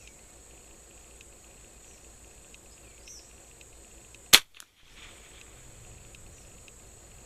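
A single sighting shot from a Martini Mk3 rifle at a steel shooting challenge cracks out sharply and loudly after several seconds of quiet outdoor background hum, then fades quickly, with no voices.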